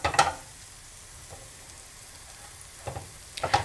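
Crusty rolls hit a hot grill pan with short bursts of sizzle and contact clatter at the start and again near the end, a faint low hiss between them; no voices.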